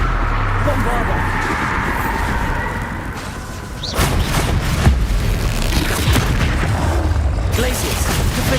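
A Bombarda spell explosion in the Hogwarts Legacy video game, a loud booming burst midway through dense combat noise, with a voice talking throughout.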